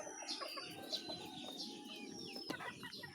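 A hen clucks faintly in a farmyard with chicks about, soft intermittent clucks over a low, steady background hum.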